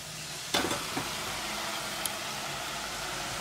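Chicken pieces sizzle steadily in a hot pan, with a brief clatter of a utensil near the start and a light tap later.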